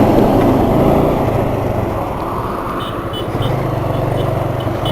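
Hero Super Splendor BS6 motorbike engine running with a steady low rumble and close, continuous exhaust note that holds fairly even throughout, with no talking.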